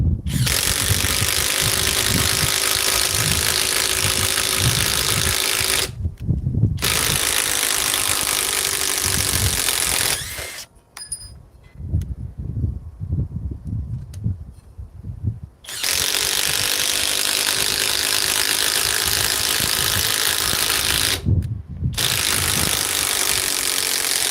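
A ratchet-driven tool runs fasteners into enlarged holes on a fairly new lug, a loud continuous mechanical whir in long runs broken by short pauses and a quieter stretch of clicking and handling.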